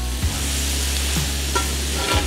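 Wild boar goulash with spices sizzles steadily in a large frying pan, with three distinct scraping stir strokes breaking through the constant frying hiss; no talking.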